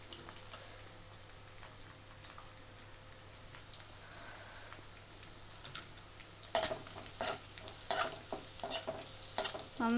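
Sliced garlic, ginger and curry leaves roast in hot oil for a Kerala-style mango pickle, with a soft steady sizzle that turns into louder crackling bursts and spattering pops toward the end.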